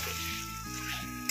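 Chicken sizzles in hot oil with masala, a continuous close frying hiss with steady tonal music running underneath and a short clatter near the end.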